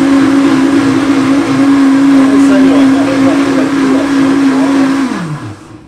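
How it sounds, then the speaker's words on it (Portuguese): A blender whirs loudly at a steady high speed for several seconds, then winds down as it is switched off. "está desligando aqui o liquidificador"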